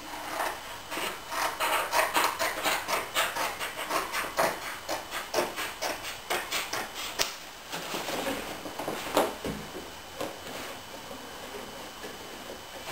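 A handheld saw cuts a wooden piece along a pencil line while an interior is fitted. It gives a close, rhythmic run of rasping strokes that slow and fade toward the end.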